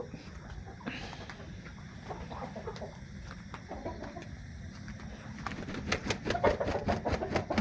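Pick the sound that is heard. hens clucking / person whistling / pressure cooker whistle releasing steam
hens clucking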